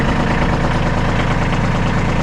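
Kubota B2301 compact tractor engine idles steadily and loudly up close, a continuous low rumbling drone with no talk.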